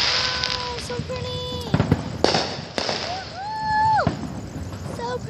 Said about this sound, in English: So much fireworks right now.